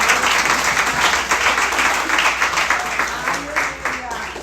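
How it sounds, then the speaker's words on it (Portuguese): A church congregation at a service claps and applauds loudly and steadily throughout, a dense close wash of hands with a voice faintly mixed in. "Uma salva de palmas para o Senhor."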